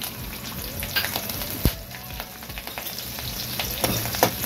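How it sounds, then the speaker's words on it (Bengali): Nigella seeds and chopped green chili crackle and sizzle in hot oil for a Bengali tempering, a close, steady frying hiss with sharp pops and scattered spatters, no voices. "এই তেলেই আমি কালো জিরে ফোড়ন দেব আর কাঁচা লঙ্কা কুচি দেব।"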